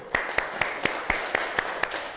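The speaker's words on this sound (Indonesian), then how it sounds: "Oke, tepuk tangan dulu." A class of school students clapping in unison during a Mandarin lesson, eight sharp evenly spaced claps in a steady rhythm, close and moderately loud with no talk over them.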